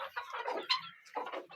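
Chickens and roosters in a small home zoo cluck in short, busy bursts, close by and fairly quiet, with no talk over them.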